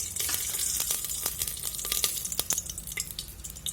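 Whole cloves and cinnamon sticks sizzle and crackle in hot oil in a pan for paneer tikka biryani, a steady close frying hiss with scattered pops and light stirring.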